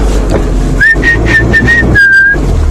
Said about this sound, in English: I shall practice my whistling, everyone.